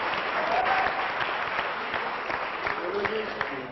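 Applause from a film festival audience for Rajasthani cinema in Jodhpur fills the room steadily, a dense wash of clapping with crowd noise and voices mixed in underneath.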